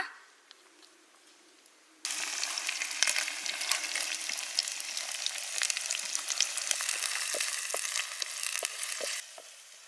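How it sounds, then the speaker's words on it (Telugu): Onions dropped into hot oil burst into a sudden loud sizzle after a quiet start, then keep crackling and spitting steadily before cutting off near the end; close and alone. "నూనె అయితే వేడైంది నేనైతే ఉల్లిగడ్డలు అయితే వేసుకుంటానా"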